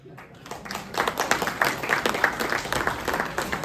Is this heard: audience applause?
yes